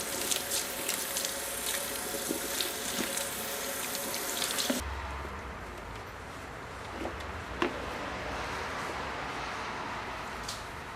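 Tap water running at a salon sink while hair is rinsed, a steady loud hiss and splash that cuts off abruptly partway through, leaving quiet room noise with occasional small clicks and drips.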